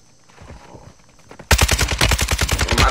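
Gunfire in the video game Warzone: after faint, soft steps, loud rapid automatic bursts break in and keep a fast, even rhythm of close shots.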